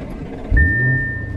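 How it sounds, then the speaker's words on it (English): A short mechanical whir from Bang & Olufsen tweeters motoring up out of the dashboard of a new Lamborghini Urus, a low motor hum starting abruptly with a steady thin whine, heard close inside a quiet cabin. "The tweeters raise out of the dash."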